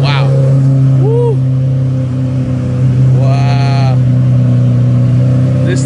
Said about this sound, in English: Lamborghini by far has the best sounding cars